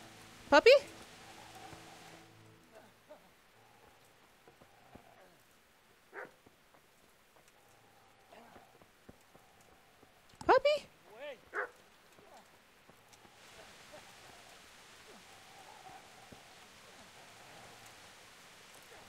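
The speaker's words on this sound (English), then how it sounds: "I hear you, dog." A dog barks in the medieval video game Kingdom Come: Deliverance, a few sharp yelps spaced far apart at moderate distance, with quiet game ambience between them.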